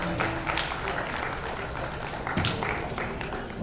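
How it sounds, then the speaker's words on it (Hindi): Applause from the audience at a ceremony honouring Covid warriors, greeting Amit; moderately faint, steady clapping carries on for a few seconds with a slight surge near the end. "जोरदार तालियां अमित जी के लिए।"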